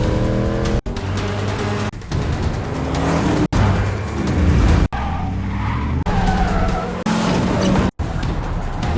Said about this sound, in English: A high-speed chase begins.